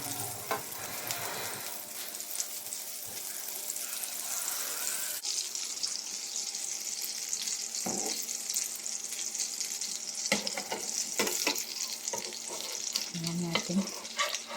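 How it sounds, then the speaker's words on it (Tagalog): Bread sizzles as it fries in butter in a pan, a steady close crackle that carries throughout, with occasional clinks and scrapes of utensils. "Lagyan natin ng butter. Dito tayo magpuprito."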